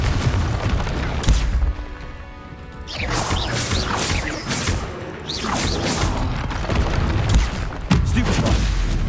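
Explosive blasting spells going off in a Hogwarts Legacy battle, a dense string of loud booms and crashes with short gaps, heavy and continuous throughout.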